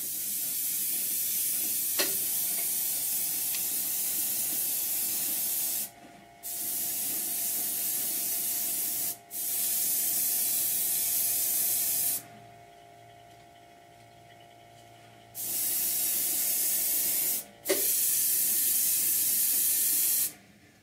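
Airbrush spraying paint onto custom wasp statue wings, a steady close hiss in several bursts of a few seconds each, separated by short quiet pauses.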